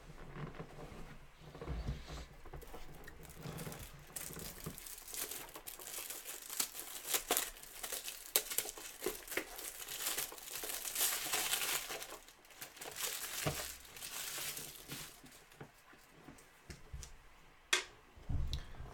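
A 2015 National Treasures baseball card box wrapper is torn open in a continuous run of close, crinkly plastic crackling and ripping, with sharper snaps near the end.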